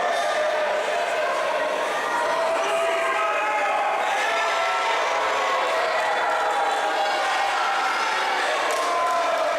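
A wrestling crowd cheers wildly at a PPW High Voltage event, a dense sustained roar filling the arena continuously, with a commentator talking over it.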